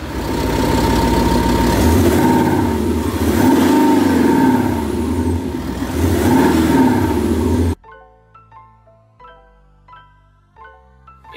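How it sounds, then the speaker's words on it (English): A Range Rover Sport SVR fitted with a Thor active exhaust sound system revs loudly in repeated surges for about eight seconds, then cuts to a quieter stretch of short, pulsing synthetic tones. "We fitted a active sound system"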